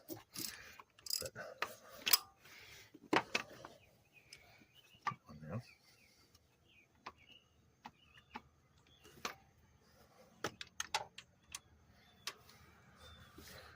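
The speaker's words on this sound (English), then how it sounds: "Let me tighten down this bolt." A bolt is tightened by wrench on a 1996 Lumina, giving a series of sharp, close ratcheting clicks with scattered metallic clinks and pauses between bursts.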